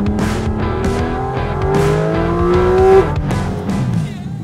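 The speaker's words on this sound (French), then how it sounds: "T'as vu, le passage de vitesse est super rapide." A Porsche GT4 RS races on a circuit, its engine note climbing and dropping through quick gear shifts with tire noise, loud and close, with people talking over it.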